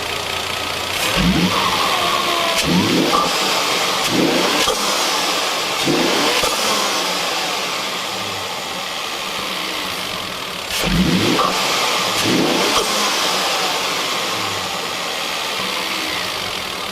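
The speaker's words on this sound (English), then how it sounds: "I'll start this thing up and give it a couple revs." A 2012 Volvo XC60 T6 R-Design engine fitted with a cone intake filter is revved several times from idle. Sharp, loud blips rise and fall in a steady rhythm, close by and heard alone without any voices.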